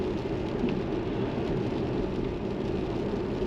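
Steady rain drumming on a Tesla during a drive toward Woodinville, a dense even wash of noise with no breaks, close and fairly loud, with no voices.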